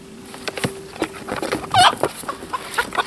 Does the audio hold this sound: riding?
no